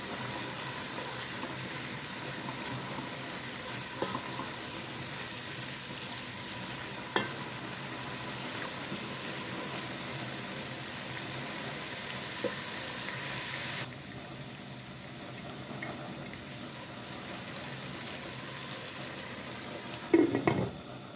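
Tomatoes and vegetables fry in a pan with a steady, close sizzle, a few soft clicks of stirring scattered through it and a brief louder clatter near the end.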